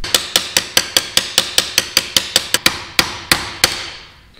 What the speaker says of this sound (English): you bust out the old chain brake and you make it go.